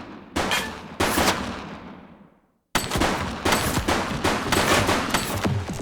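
Gunfire from a shooting suspect in the police game The Precinct: several loud, sharp shots with ringing decay, a brief silent gap, then a rapid string of close reports.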